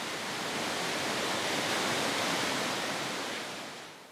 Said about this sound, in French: Iguaçu et ses 200 cascades.